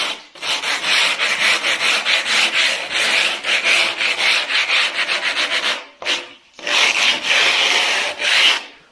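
Hand rubbing along the bottom edge of a fiber-mesh-reinforced wall surface to knock off protruding mesh fibers, giving steady, close scratchy abrasion strokes in quick rhythm with a brief pause before a few more passes; no talking.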